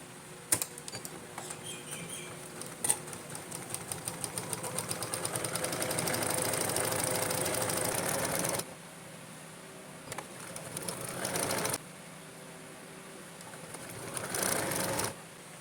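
A sewing machine stitches a namaz chadar from the lower hem upward. It starts with slow, separate stitches, speeds into a fast steady whir, then stops and restarts in short bursts. The sound is close, with no voice.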